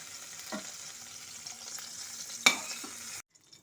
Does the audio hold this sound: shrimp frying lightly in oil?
yes